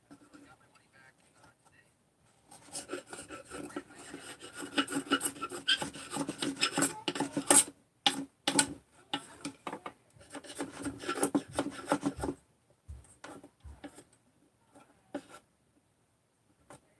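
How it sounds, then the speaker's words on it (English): A scraper is drawn across metal while a bearing is removed from a Husqvarna 288XP chainsaw, with steady raspy strokes that run continuously for several seconds before breaking into a few sparse, separate scrapes close to the microphone. "This is a super scraper."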